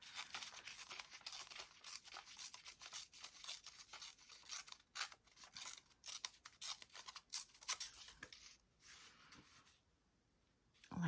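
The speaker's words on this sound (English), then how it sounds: "I'm going to rip it. And I think I'll rip it right about here." Paper torn by hand for an envelope journal collage: close, continuous rough ripping with short pauses for about nine seconds, then near quiet and a final small crinkle, no voices.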